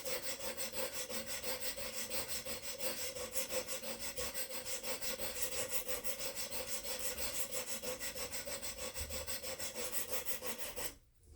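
A tanto knife blade drawn repeatedly across a sharpening tool, giving a fast, even, rasping scrape that carries on steadily and close up before stopping abruptly at the end.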